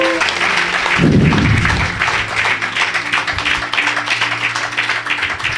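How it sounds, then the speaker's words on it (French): A church congregation applauds and cheers in praise, sustained loud mixed clapping and shouting voices with a low musical drone underneath throughout. "louer Dieu par nos acclamations?"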